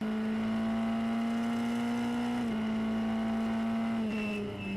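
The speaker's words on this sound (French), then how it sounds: "Le moteur de la Clio RS, il prend 7500 tours." A Formula Renault single-seater carrying a Clio RS engine revs near 7500 rpm, a loud steady high-pitched engine whine holding close with a slight pitch shift partway through.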